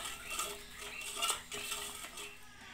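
A utensil stirs banana bread batter in a bowl, making soft, close scraping and clinking against the sides with no pause in the motion.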